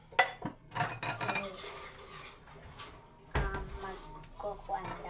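Close clinks and clatters of cutlery and plates while dishes are washed by hand, sharp knocks scattered irregularly with a louder clatter midway, and a person talking softly in between.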